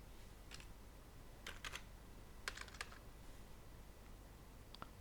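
A computer keyboard is typed on in short scattered bursts of crisp clicks, close and quiet against a faint background hum, with no one talking.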